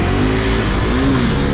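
KTM RC 390 motorcycles accelerating hard in a short drag race: a loud, continuous engine roar with rising and falling pitch sweeps, close by and with no talking.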